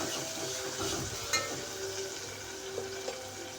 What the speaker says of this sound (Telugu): జింజర్ గార్లిక్ పేస్ట్ కొంచెం పచ్చి వాసన పోయేంత వరకు వేయించుకోవాలి.